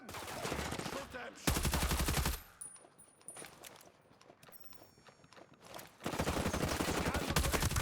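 Rapid automatic gunfire crackles in dense bursts during a firefight in Ghost Recon Breakpoint, loud at the start and end with a quieter stretch of scattered shots and ambient noise in between.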